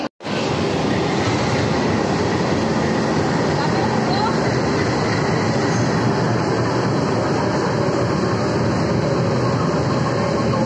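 A passenger train leaving New Delhi rumbles steadily and loudly throughout, a dense continuous roar with faint underlying clatter and no clear speech.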